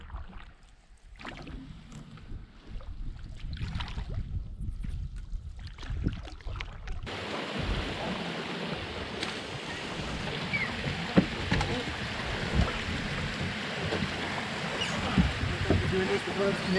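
A canoe travels down McEwen Creek in the Quetico wilderness. Quiet paddling and water sounds open, then a louder, steady wash of water and wind surges in partway through, with a voice speaking at times.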